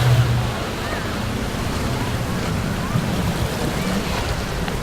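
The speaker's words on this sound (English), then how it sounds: "layering the seagull sound clip and the clip of waves hitting a boat" Beach ambience built from layered seagull calls and waves slapping against a boat hull, a steady broad wash of surf and wind that holds at an even loudness throughout, with no voices.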